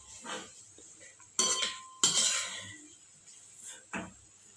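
A spoon scraping and clinking in a bowl while mixing mashed potato filling for bread pakoda, in a few sharp bursts with quiet pauses between, close and moderately loud.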